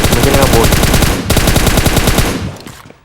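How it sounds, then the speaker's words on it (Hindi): In the PUBG Mobile game, a teammate lays down cover fire: loud, close, rapid automatic gunfire in a steady burst, briefly broken, then resuming and fading out at the end. "अभी इसका टीममेट पीछे से कवर फायर दे रहा था"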